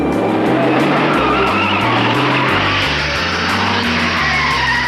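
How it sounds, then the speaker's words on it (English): A Ford Falcon GTHO race car at Bathurst roars at full throttle down Conrod Straight, its engine loud and continuous with pulsing gear changes, with no talk over it. "Moffat accelerates the GTHO to something around 140 miles per hour down Conrod."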